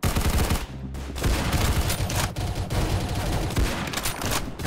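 Rapid, sustained gunfire from the Roblox shooter Arsenal: loud overlapping bursts of shots fill the whole stretch, with brief dips between volleys and no talking over them.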